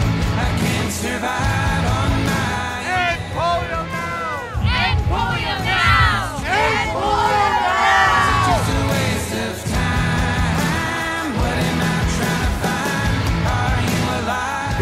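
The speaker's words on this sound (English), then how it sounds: "hear the crowd yelling "End Polio Now"" An outdoor crowd at a Global Citizen polio campaign event in Pemberton, Canada yells a rhythmic group chant. Loud overlapping voices rise and fall together over about fifteen seconds, with whoops breaking through.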